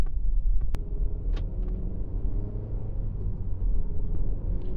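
Nissan Rogue on a test drive, a low steady road rumble and engine drone from inside the cabin, with a few brief clicks and knocks over the top and no one talking.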